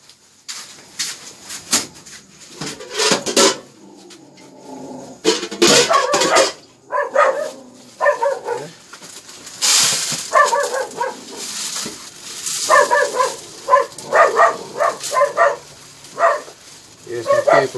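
Yard dogs bark angrily at someone outside, with repeated, loud bursts of barking in uneven clusters that continue throughout while a person keeps talking over them.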